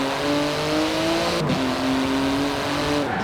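A twin-turbo 3.8-litre flat-six sports car of about 700 horsepower revs in Forza Horizon 4, its loud engine note rising and falling steadily across the whole stretch, with a brief dip midway and no talk.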